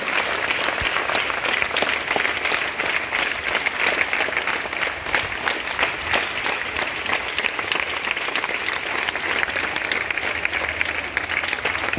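A school audience applauds visiting guests with sustained, dense clapping from many hands, steady and loud throughout with no pauses.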